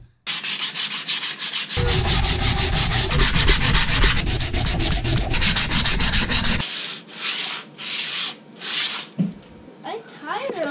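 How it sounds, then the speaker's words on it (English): Steady back-and-forth hand sanding scrapes against a wooden axe handle, loud and close, running continuously for several seconds before easing into lighter strokes. "So now I'm gonna start sanding down the handle."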